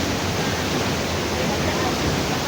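May Falls pours as a dense, steady roar of falling water, loud and close with no breaks across the moment.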